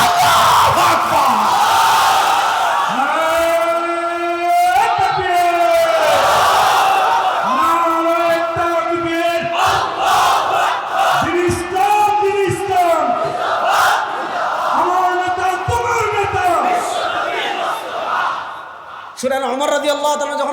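A large crowd of many voices chants the Islamic slogan Allahu Akbar in loud, rhythmic, sustained unison, with repeated swelling calls across an outdoor religious gathering.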